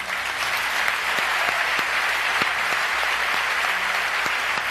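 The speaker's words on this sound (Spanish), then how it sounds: "Un fuerte aplauso para ellos." A ceremony audience at the 2015 FIM MotoGP Awards applauds the Moto2 podium finishers, a dense, loud and steady wash of clapping from many hands that fills the hall without a break.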